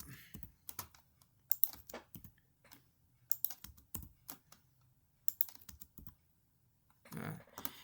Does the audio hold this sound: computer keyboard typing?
yes